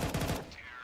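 Rapid bursts of gunfire in a Counter-Strike match, a short loud volley of several shots that stops abruptly and leaves a faint ringing tail.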